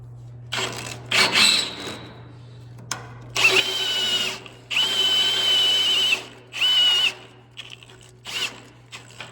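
Cordless power drill or impact driver working a bolt through a center-punched hole on a car's four-link setup, running in several short bursts of whirring with pauses between, close and loud against a low steady hum.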